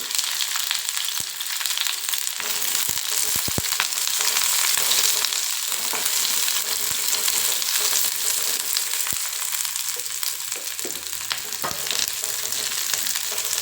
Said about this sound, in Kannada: ಲವಂಗ ಹಾಗೂ ಒಂದು ಏಲಕ್ಕಿನ ನಾನು ಹಾಕೋತಾ ಇದ್ದೀನಿ ಫ್ರೈ ಮಾಡೋದಕ್ಕೆ ಮಸಾಲೆಗೆ